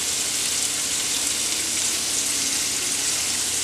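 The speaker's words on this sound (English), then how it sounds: "I'm going to go ahead and start sauteing the vegetables" Chopped onion sautés in a hot pan with a steady, close sizzle that stays even throughout and never pauses. It is cooked alone, without talk, as part of a filling for Philly cheesesteak egg rolls.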